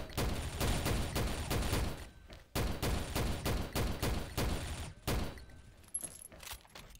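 Automatic gunfire in the shooting video game XSHOT rattles in rapid dense bursts, loud and close, broken by short pauses and ending in scattered single shots.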